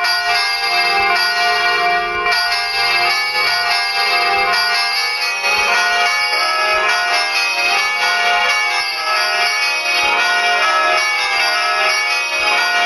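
Church bell sounds simulated in GarageBand, struck on both sides in steady, dense overlapping peals that ring loud and continuous with no pauses and no talking.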